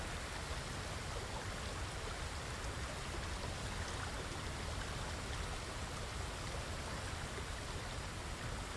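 A steady, dense rush of falling water from a waterfall in Ghost of Tsushima, a constant broadband roar like heavy rain that holds at an even, fairly loud level throughout, with no voices.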